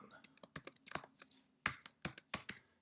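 Brisk typing on a computer keyboard while entering code, irregular clusters of sharp close key clicks with a few heavier strokes, no other sound around them.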